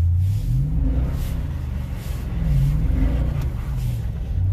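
A Toyota Tundra Double Cab pickup's engine rumbles and revs in waves while drifting on a thin layer of snow, a steady low drone close by with no talking.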